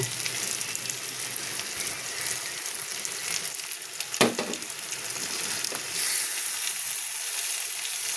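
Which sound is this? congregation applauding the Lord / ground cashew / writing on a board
ground cashew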